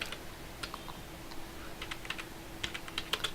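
Typing on a computer keyboard while entering C code, a run of quick, uneven key clicks close to the microphone, with no talking.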